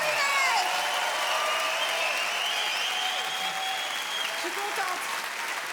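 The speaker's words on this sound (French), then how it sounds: "On peut l'applaudir très fort." A comedy show audience in Montreux applauds and cheers a performer, a broad sustained roar of clapping with someone speaking over it.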